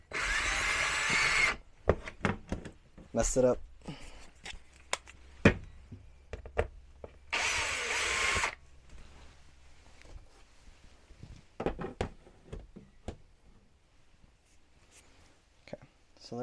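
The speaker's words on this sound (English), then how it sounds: "Drills still work upside down." A power drill bores upside down at an awkward angle during DIY trailer work, sounding in two sustained whirring bursts separated by clicks, knocks and handling noise, with quiet muttered speech between.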